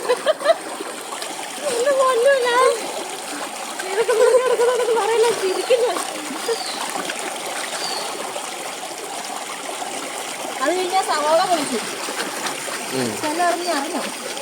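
Steady splashing and trickling of stream water close by, heard under ongoing talk from a few voices, including a child.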